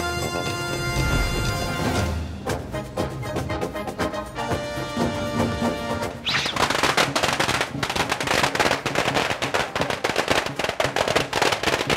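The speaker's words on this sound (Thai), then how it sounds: "ระหว่างทางจะมีพ่อแม่พี่น้องเนี่ยมาเล่นประทัด" Firecrackers go off during a festival procession at a vegetarian festival shrine in Ranong, Thailand, starting as a dense crackle and then bursting into rapid, loud, continuous popping barrages close by.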